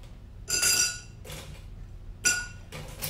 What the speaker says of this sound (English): So you're gonna pack your mixing glass with ice, let it chill for a second